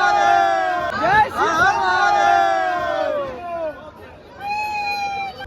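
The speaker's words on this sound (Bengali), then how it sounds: "ভিড় সেই লেভেলের ভিড়" Dense crowd of Kumbh Mela pilgrims surges around a packed train arriving at a platform, a loud roar of overlapping shouts and whoops that swells in bursts, fades briefly, then rises again.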